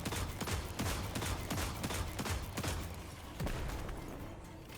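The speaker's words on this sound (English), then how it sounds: "keep pinging away with the hand cannon while he's being damaged" Rapid, repeated hand cannon shots in a Destiny 2 firefight, loud and dense against a constant roar of game effects and explosions, with no talking.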